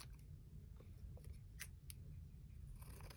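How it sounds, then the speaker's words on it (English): Scissors snip through paper for a junk journal in a few quiet, sharp cuts, close and faint with a low background hum and no talking. "I'm just going to cut this with my scissors"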